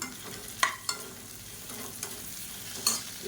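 Ingredients for a South Indian side dish sautéing in a pan, a steady soft sizzle broken by a few sharp spoon taps and scrapes against the pan as they are stirred.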